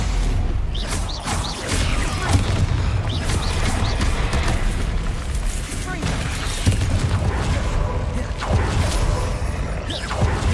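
Bombarda blasting spell explosions from Hogwarts Legacy in a continuous barrage of booms, crashes and whooshes, loud and dense throughout, with spell shouts mixed into the action.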